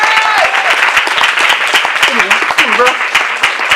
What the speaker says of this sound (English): Let's give our hand clap of praise for Tellis Johnson.